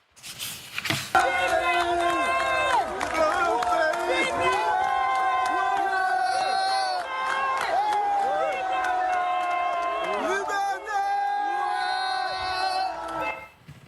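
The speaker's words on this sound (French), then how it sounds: "certains habitants scandent le mot « liberté »" A crowd outdoors in a Gabon street during a coup chants "liberté" and shouts in overlapping voices, rising and falling in waves, with cheers and whoops mixed in throughout.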